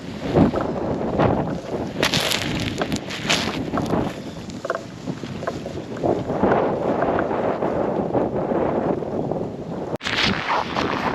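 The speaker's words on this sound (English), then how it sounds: "The wind's brutal." A strong wind roars and buffets the microphone during a snowy city blizzard, a loud continuous rush with gusty surges and one sharp dropout near the end, no talking.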